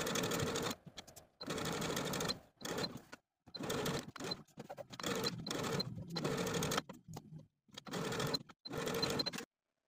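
A sewing machine stitching a pinked hem extension on a 1960s dress, running in repeated bursts of steady whirring separated by short pauses while the fabric is pivoted, close and clear with no talk.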